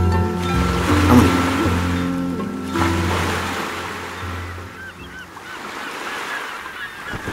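Sea waves wash onto the shore in a steady, broad rush, rising and falling softly and mixing with louder honking bird calls and a boat nearby, with no talking.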